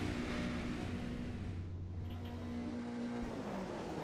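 An F1 car in the F1 2011 video game at Silverstone enters the pit lane, its engine a loud, steady high whine that eases off briefly midway and then holds again.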